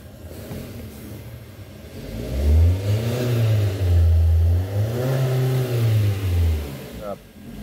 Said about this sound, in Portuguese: Vamos ver se ele vai acelerar agora.